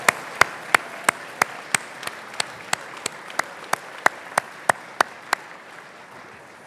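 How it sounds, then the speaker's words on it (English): At a chamber of commerce annual awards dinner, one nearby pair of hands claps crisply at an even, brisk pace, about sixteen sharp claps, above a soft wash of audience applause farther back, which then fades out. "if you give them a big round of applause,"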